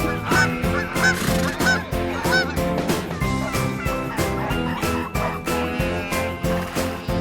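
Geese honk repeatedly in quick bursts over a bouncy backing tune, their nasal calls rising and falling at close range and fairly loud, with no talking.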